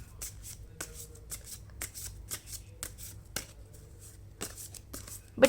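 Tarot cards are shuffled in a series of crisp riffling bursts, close and fairly quiet, with short pauses between each shuffle.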